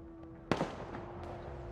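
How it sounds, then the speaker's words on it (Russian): Sniper gunfire in the real-time war game Broken Arrow: one sharp, loud report with a short echoing tail, followed by lower, rumbling battlefield noise. "Слышу выстрелы. Снайпера."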